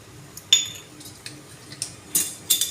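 Spoon clinking against a pot while stirring sugar syrup for jalebi, a few sharp metallic taps and scrapes at irregular intervals over a quiet background.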